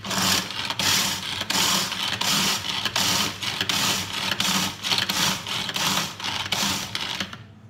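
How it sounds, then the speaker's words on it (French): Food processor grinding Oreo cookies into a fine powder, a loud close whirring motor pulsing in rapid rhythmic bursts that fades away at the end. "je vais mixer mes Oreos"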